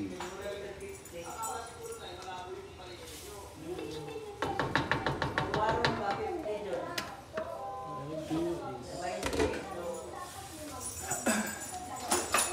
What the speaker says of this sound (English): Constant stirring, make the peanut butter